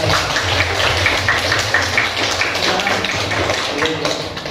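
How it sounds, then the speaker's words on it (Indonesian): A classroom audience applauds a student group after its presentation, giving dense, steady clapping that fills the whole stretch at a fairly loud level. "Berikan aplaus untuk kelompoknya."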